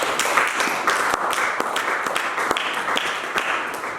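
Church congregation applauding and acclaiming the Lord, a dense, steady wash of many hands clapping with scattered sharper claps, sustained and fairly loud throughout.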